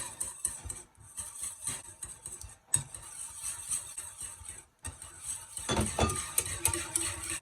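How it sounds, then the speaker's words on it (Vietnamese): Egg yolks are stirred into cake batter in a bowl, giving soft repeated scraping and clinking of a utensil against the bowl. The strokes are close and uneven, then grow more vigorous toward the end. "Cho từ cái lòng đỏ vô gì là mình trộn nó đều."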